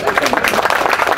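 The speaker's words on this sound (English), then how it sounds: "Please give them a round of applause." Crowd applause for the 300th Army Band at a Korean War 73rd anniversary ceremony: a brief, dense burst of clapping with a voice faintly mixed in.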